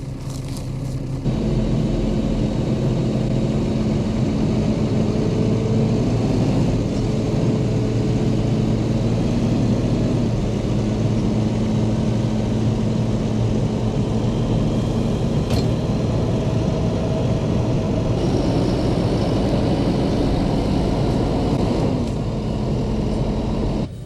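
A Fendt tractor engine labours steadily while pulling a stuck vehicle free, a loud sustained low rumble whose pitch shifts slightly as the load changes, with no voices over it.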